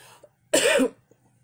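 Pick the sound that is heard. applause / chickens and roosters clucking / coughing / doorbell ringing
coughing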